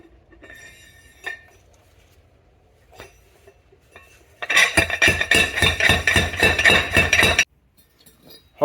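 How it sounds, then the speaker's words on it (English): Metal material being crushed in a dolly pot for precious metal recovery, heard as a close burst of rapid, rhythmic metallic pounding and clanking lasting about three seconds between quieter stretches. "I'm going to crush up the rest of the material through the dolly pot"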